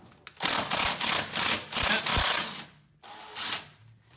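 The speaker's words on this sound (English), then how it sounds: "Now, I don't know if this little impact will do it." Small cordless impact wrench backing out 10 mm bolts on a BMW 3 Series during water pump replacement, giving several loud, close rattling bursts in quick succession with short gaps, then a final burst after a brief pause.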